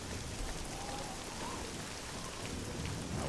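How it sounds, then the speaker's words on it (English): Steady rainfall in the video game Oblivion, a dense continuous hiss of raindrops with faint distant thunder rumbling underneath, no speech. "It's always raining when I play this game."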